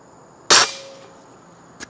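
Gamo Shadow Whisper air rifle fires an alloy pellet in a backyard plinking setting: one sharp, loud report with a brief tail, followed by a faint impact tick on the target, no talking.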